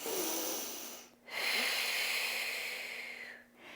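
Deep, slow breathing during a prenatal pilates stretch: two long, airy inhale-exhale cycles, close and soft, with short pauses between them.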